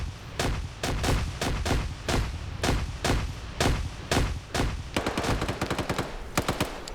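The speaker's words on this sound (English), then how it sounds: "NASA spots them moving in, though. Throws a grenade." Combat in a multiplayer video game battle: a rapid string of sharp gunfire bursts and blasts, loud and close, with a grenade among them and no voices.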